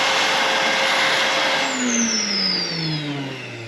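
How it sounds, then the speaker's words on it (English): A vacuum cleaner hoovers out the fuel filler of a Mk1 Audi TT, a loud steady whooshing roar whose pitch slowly drops as the motor winds down. "Give this a good hoover so anything loose will come out."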